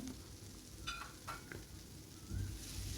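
Spices with salt, turmeric, Kashmiri chili powder and cumin powder frying in a pan, a faint, quiet sizzle with a few light scrapes and taps of a stirring utensil.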